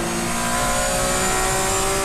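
A BMW M4 Silhouette race car engine at Assen circuit roars loud and steady at high revs, a dense continuous blare with whining harmonics throughout.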